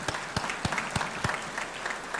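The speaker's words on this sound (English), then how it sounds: "But please give Jay a round of applause." Audience at a college athletic hall of fame ceremony applauding Jay, a burst of clapping with a few sharp individual claps standing out, moderately near.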